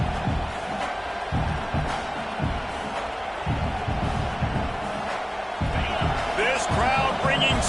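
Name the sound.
football stadium crowd cheering on a fourth down play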